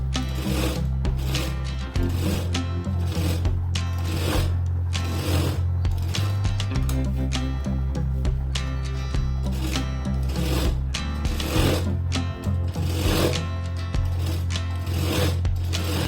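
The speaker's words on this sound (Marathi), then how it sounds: "आपण फक्त घेतली फ्रिलची लेस आणि ती आपल्याला शिलाई मारून त्याला जॉईंट करून घ्यायची" A sewing machine stitches frilled lace onto a blouse, its motor running steadily throughout with a rapid rhythmic needle clatter that rises and falls slightly in bursts.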